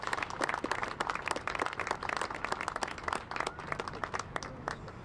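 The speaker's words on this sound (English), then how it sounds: "Let's have a big round of applause and thanks to all of them." Outdoor applause at a public park celebration in San Francisco: a crowd claps steadily and fairly close, with dense, even clapping throughout and no speech over it.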